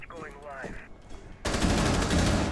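Video game shootout gunfire: after a quieter stretch with faint voices and scattered sounds, a sudden loud burst of dense rapid shots fills the last second, continuing steadily to the end.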